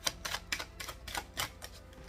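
Tarot cards shuffled by hand give a close, crisp run of quick papery slaps in an uneven rhythm, with no talking.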